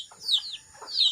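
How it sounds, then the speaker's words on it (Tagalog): Farm chickens giving a few short, close clucks and squawks in quick succession, alone with no voices. "Tanawa ninyo ang mga manok."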